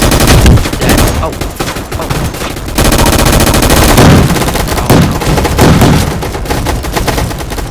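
Loud, dense gunfire in the Gun Fight Arena video game, with continuous rapid shots and bursts overlapping for the whole stretch and barely letting up.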